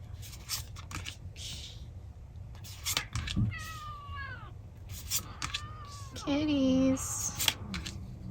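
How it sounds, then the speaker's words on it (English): A house cat meows several times, the drawn-out, wavering cries coming close and clear against a quiet room, with faint rustling and soft scratchy sounds around them and no talking. "Kitties."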